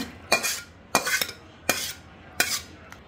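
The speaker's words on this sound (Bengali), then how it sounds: "আমি তরকারিটা ঢেলে নিব।" Bottle gourd curry with fish is scraped out of a pan with a metal spoon: four sharp, evenly spaced scraping clanks with brief gritty tails, close and moderately quiet, and no voices.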